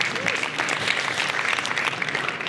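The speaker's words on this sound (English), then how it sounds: "I want a clap for this number" Audience at a business event on youth employment in South Africa applauding, a dense, sustained burst of many hands clapping that stays steady and loud throughout, with no talk.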